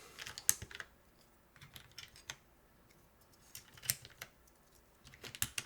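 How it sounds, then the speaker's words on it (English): Keycaps snapped back onto a Neo80 CU mechanical keyboard give a few sharp, quiet clicks in small clusters separated by pauses, close up and alone. "So let's put the keycaps back on."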